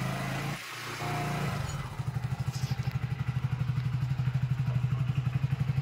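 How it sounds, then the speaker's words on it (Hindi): A Hero HF Deluxe BS6 motorcycle, just fixed of a starting problem, fires up and settles into a close, steady, rhythmic idle thump that continues evenly after a brief starting clatter. "बाइक को बिल्कुल अच्छे तरीके से स्टार्ट हो चुकी है"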